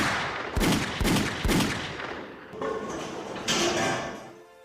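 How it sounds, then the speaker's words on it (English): Gunshots in a violent horror film scene where a policewoman is shot: three sharp, loud shots in quick succession, then further thudding impacts and a fading metallic rattle, no speech. "we hard cut from that to the cop getting shot to death"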